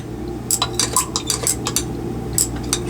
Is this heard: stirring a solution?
yes